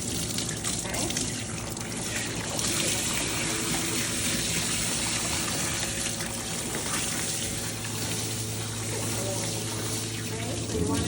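Running water during a bath, rinsing shampoo down to the skin, a steady broadband wash flowing continuously and close, with a constant low hum beneath it.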